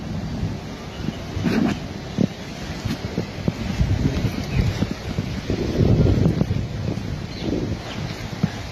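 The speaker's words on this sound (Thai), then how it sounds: "ลมก็แรง" Strong wind gusts buffet the microphone in uneven, rumbling surges that rise and fall for several seconds, loud and close, with no clear talking.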